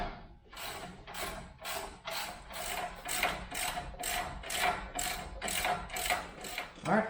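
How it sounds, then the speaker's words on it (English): A hand ratchet tightening bolts on a Fusion 4x4 2.5-ton steering upgrade clicks through a dozen quick, evenly spaced bursts, close and clear with no talk. "Now let's go and tighten these guys down."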